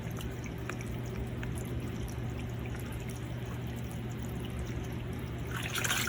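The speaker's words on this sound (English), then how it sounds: "You see the water coming out there?" Water streaming from a loosened valve cap on a hot tub, a steady hissing trickle with constant pour throughout and a brief rise in splashing near the end, close by with no talk.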